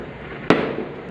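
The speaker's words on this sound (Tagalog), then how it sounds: "Mga nag-aantay ng fireworks dito, makikita nila dyan mamaya." One sharp firework crack at New Year, a single bright burst heard from a distance over a low background hum, with no one talking.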